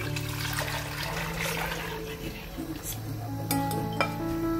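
Gram flour and yogurt go into a cooking pot with clinks of metal on metal, scraping and stirring, along with a steady background hiss from the kitchen. No one speaks.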